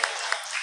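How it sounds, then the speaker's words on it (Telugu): Church congregation clapping hands in praise during a Sunday worship service, a broad, continuous wash of applause with a few sharper bursts, fairly close and loud throughout the short stretch. "చప్పట్లు కొట్టి యేసయ్య నామమున మహిమపడతాం."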